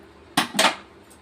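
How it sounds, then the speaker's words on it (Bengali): Roasted cumin seeds crushed with a rolling pin, giving two sharp, close knocks a quarter-second apart with a crunching rasp, then a faint tap at the end. "এবার মনে হচ্ছে জিরেটা গুঁড়ো করবে, ওই জন্যে ব্যালন জিরেটা বার করেছে।"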